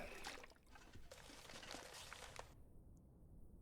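In The Long Dark video game, toilet water is poured and drunk, heard as a soft, brief trickling pour lasting a couple of seconds before cutting off to near quiet.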